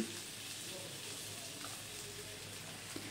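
Fresh spinach is added to a hot pan and fries with a soft, steady sizzling hiss close by, without a break, and no talking over it.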